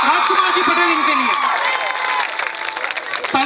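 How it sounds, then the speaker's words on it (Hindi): Loud applause from a school audience of students honouring Rajkumar Patel, a dense continuous clatter of clapping with crowd noise, while someone speaks over the top through the first half. "एक बार जोरदार तालियां माननीय श्री राजकुमार जी पटेल इनके लिए।"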